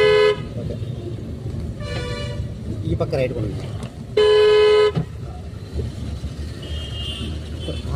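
A car horn honks during a driving-school lesson on the road: two short toots, then a louder, longer blast. An instructor talks over the engine and traffic noise.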